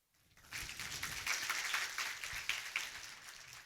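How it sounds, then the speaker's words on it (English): Audience applause at a talk on employer branding. It starts from near silence, swells quickly into a steady wash of many hands clapping, and holds there, moderately distant and soft. "give me a round of applause to Detalina, Polina, and the entire Jobs.bg team"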